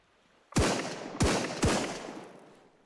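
Three loud, sharp gunshots ring out in the Sunkenland video game, spaced unevenly about half a second apart, each with a booming tail that fades slowly.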